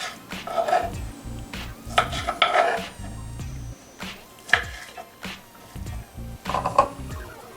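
Knife cutting leftover roast leg of lamb into bite-sized pieces on a board, a series of close, irregular scraping and chopping knocks with brief pauses between strokes, no talk.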